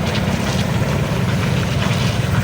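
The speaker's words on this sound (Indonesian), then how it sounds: "Nah ini mesin cornya mau kemana nih?" A concrete mixer truck engine rumbles at a roadwork site pouring concrete, a loud, continuous low drone with wind noise and no speech.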